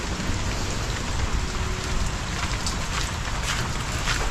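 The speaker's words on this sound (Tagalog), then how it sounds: "Nakatakot yung ulan dito sa amin." Heavy rain pours down steadily in a rural Philippine yard, a dense, loud, unbroken hiss of drops hitting surfaces all around.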